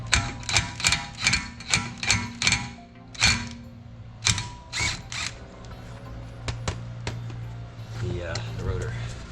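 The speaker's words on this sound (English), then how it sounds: "I need to get that little Torx bad boy off there, and then I can pull off the rotor." A ratchet working a small Torx bolt off an Audi Q5 brake rotor, a quick series of sharp, close clicks in bursts that then pause, with a voice talking now and then.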